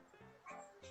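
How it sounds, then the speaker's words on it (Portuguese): A dog barks and yips faintly in the background of a home during a conversation, a few short, soft yelps spread across a brief moment. "não sei se é o meu cachorro."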